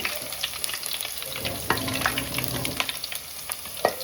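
Garlic cloves fry in hot oil in a pan, giving a soft, continuous crackling sizzle dotted with sharper pops and stirring clicks throughout.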